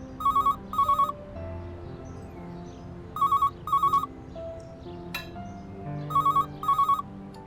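A telephone rings in repeated double trills, three pairs of bright electronic bursts with pauses between them, with faint kitchen noise underneath.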